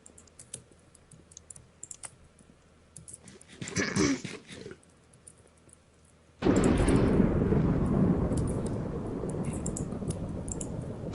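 Thunder from a lightning strike in Minecraft crashes in suddenly and loudly, then rumbles on for several seconds, after quiet clicking and a brief burst of game noise.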